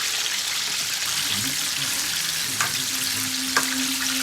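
Pork frying in a pan, a dense steady sizzle up close, with a faint voice underneath and a couple of small clinks from the pan.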